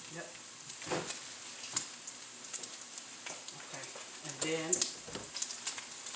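Bacon frying in a pan gives a steady, moderate sizzle with occasional crackles and pops, while a person speaks briefly over it in a home kitchen.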